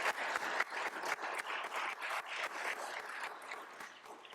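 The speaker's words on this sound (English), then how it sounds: "So if you can help me give them a round of applause" At a university public service award ceremony, the audience claps for campus hospitality teams, a soft, distant wash of many hands that swells in uneven waves and gradually fades.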